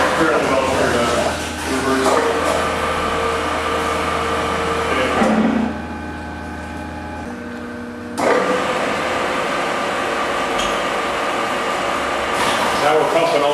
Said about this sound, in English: Now we're pumping all the seeds and skins and pulp and juice into this press. This is a 3-inch pump. It's I think a 5-horse motor,